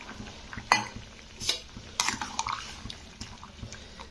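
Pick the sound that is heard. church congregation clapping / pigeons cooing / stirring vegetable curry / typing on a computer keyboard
stirring vegetable curry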